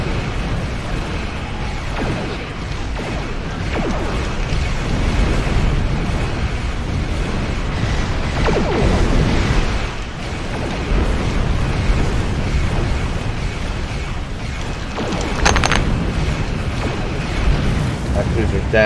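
A torpedo launches and detonates in the Star Trek Online video game, with deep rumbling blasts and mechanical whooshes amid constant battle noise, while players talk over it.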